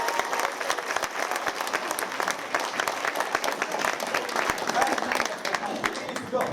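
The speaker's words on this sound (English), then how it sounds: "And so round of applause, and then we're going to do an encore." A live audience applauds performers at a charity gig before an encore, dense clapping sustained and fairly close throughout, with cheers and voices mixed into the crowd noise.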